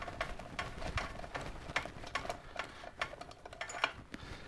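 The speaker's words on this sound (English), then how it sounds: "3/16 Allen wrench will get two of these bolts off of here." A 3/16 Allen wrench works bolts loose from the front pulley cover of a Harley-Davidson Sportster during stator and regulator replacement, a steady run of small close ratcheting ticks and metallic clicks, moderately quiet, with no talking.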